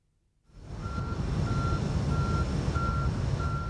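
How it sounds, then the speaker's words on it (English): A tanker truck delivering sulphur idles loudly nearby with a steady low engine rumble, while a reversing alarm beeps in a regular repeating pattern over it throughout. "This tanker is delivering sulphur."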